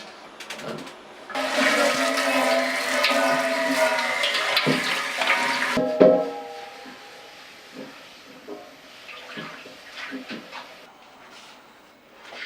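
Water rushes loudly while a brewing cube container is rinsed, a strong hissing flow lasting several seconds before cutting off, followed by quieter clinks and handling sounds.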